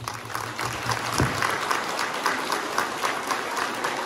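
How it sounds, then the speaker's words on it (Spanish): An outdoor crowd applauding at a civic anniversary ceremony and parade in El Quelital, Guadalcázar, with rhythmic, somewhat distant clapping that carries on steadily and a single low thump near the start. "Fuerte el aplauso para el Comisariado de Quelital"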